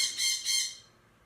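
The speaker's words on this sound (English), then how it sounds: "The bird is mad." A pet bird squawks angrily, two loud, harsh, shrill calls in quick succession, close to the microphone, then fading to quiet.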